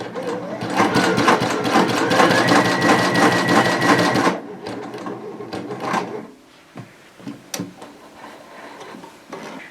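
A Baby Lock BLQK2 sashiko sewing machine stitches in a loud, fast mechanical whir for about four seconds, then stops, leaving a few scattered clicks and handling knocks.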